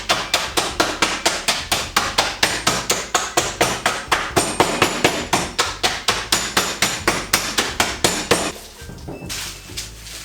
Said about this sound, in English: now what you need is to hammer it on a very solid surface